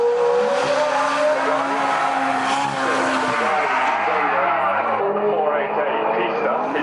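A Ferrari 488 Pista, a 3.9-litre twin-turbo car, runs hard at the Goodwood Festival of Speed, its loud engine note rising and falling through gear changes with tyre squeal. A commentator talks over it throughout.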